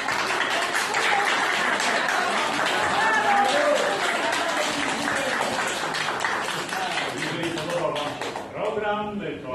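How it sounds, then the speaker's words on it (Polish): Audience clapping at the close of a children's theatre show, dense sustained applause with someone speaking over it, the clapping thinning toward the end. "wielkie brawa dla publiczności"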